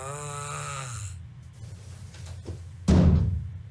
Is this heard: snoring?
yes